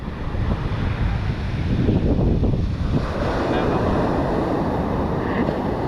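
Surf rolling onto Praia de Bordo, a beach in Brazil, as a steady broadband wash with wind buffeting the microphone, swelling slightly midway and continuing without a break.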